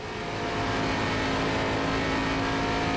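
ARCA race car on Texas Motor Speedway in the iRacing sim, engine droning loud and steady at high throttle for the whole stretch, no voices.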